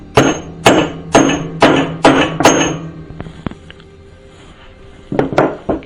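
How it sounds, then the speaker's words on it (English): A hammer taps a metal point six times in a quick, even rhythm, each tap sharp and ringing. A short pause follows, then two more taps close by. "you get a hammer, put the point of that on there and go"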